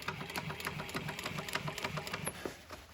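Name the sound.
sewing machine stitching marine upholstery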